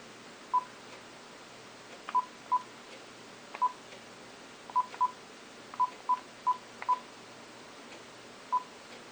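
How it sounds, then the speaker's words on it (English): An Asus ZenWatch 2 smartwatch dials a phone with a series of about a dozen short DTMF keypad beeps in uneven rhythm, moderately loud against a quiet hiss, with no talking. "So it's going to dial my phone, and you're going to see it's going to show up on my watch."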